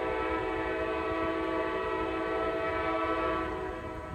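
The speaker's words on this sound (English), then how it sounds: "I don't know if you can hear me over the train or not." A loud, sustained train horn blares steadily for several seconds over the rumble of a nearby passing train, easing slightly at the end.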